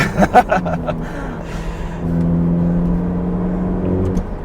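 Ferrari supercar driving at a dealership in Johannesburg, with a steady low engine drone and road hum running under brief voices early on, then continuing alone at a constant level.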